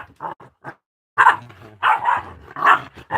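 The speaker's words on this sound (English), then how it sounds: "The three dogs are playing." Three dogs playing together, a big dog and a smaller young one, giving loud close barks, yips and low growls in bursts with short pauses between them.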